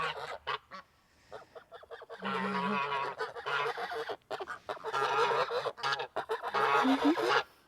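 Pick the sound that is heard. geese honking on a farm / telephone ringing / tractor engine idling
geese honking on a farm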